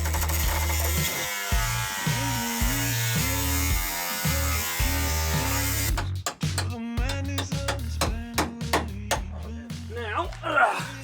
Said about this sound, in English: Gotta grab the grinder, take these guys out